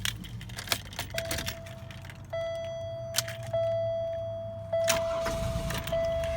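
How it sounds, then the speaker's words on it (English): A 1998 Buick LeSabre with the 3800 engine cranks over, its starter giving a thin steady whine before the engine catches and settles to an idle that steps up in loudness a couple of times. "It does have that 3800 starter noise"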